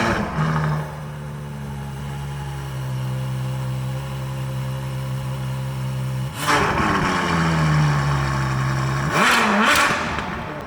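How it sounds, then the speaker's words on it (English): The 6.5-litre V12 of a Ferrari 812 Fastback settles into a loud, steady idle, then surges through a sharp rev, drops back to a deep drone, and gives a final quick blip and fall, all close up. "it's to hear the roar of this engine"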